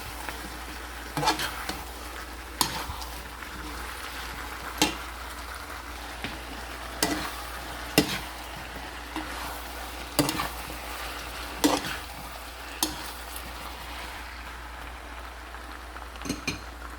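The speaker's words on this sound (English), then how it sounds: "I am going to add the tofu and cook this for 2 minutes" Tofu stir-frying with vegetables in a pan, with a steady low sizzle punctuated by sharp, irregular clinks and scrapes of the utensil against the pan, close and fairly loud, with no talk.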